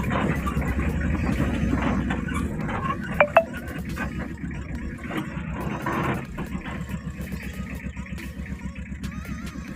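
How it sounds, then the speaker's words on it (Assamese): A vehicle engine rumbles low and steady as it drives out to collect tea leaves, with a pair of brief sharp clanks partway through and a slight rise in the drone later. "এনেকৈ গাড়ীখন উলিয়াই আনি আমি পাত উঠাবলৈ গৈ আছোঁ"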